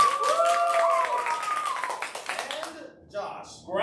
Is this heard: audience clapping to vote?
yes